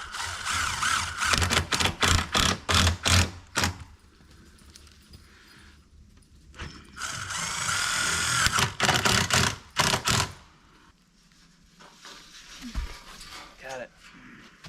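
Screws are driven into outhouse wood in rapid mechanical bursts, a run of loud ratcheting whirs at the start and another stretch midway, with quieter pauses and handling noise between.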